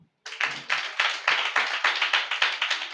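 A congregation at a Holy Communion service claps in unison, a steady rhythmic beat of sharp, near hand claps roughly three or four per second, starting abruptly after a brief silence and continuing alone.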